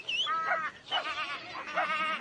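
Sheep being herded by a dog give several close, wavering bleats in quick succession that overlap one another, with no talk over them.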